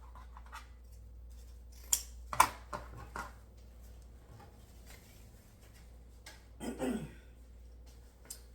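Scissors cut twine during a wooden bead bunny frame craft in a quiet room, giving a few sharp close snips followed by soft handling rustles.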